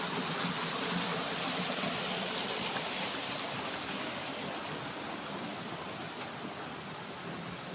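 A stream flows steadily on a developed farm property in Liliw, Laguna, making an even, rushing wash of water that holds at a constant level throughout, with no voices.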